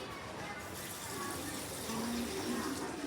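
Water poured down onto the floor at home, a soft continuous splashing and trickling that swells slightly louder toward the end, faint and close.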